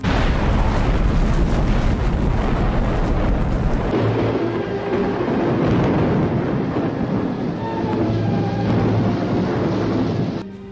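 Atomic bomb explosion effect, a loud, deep, rumbling roar that keeps going and slowly thins out into a long windy, booming tail.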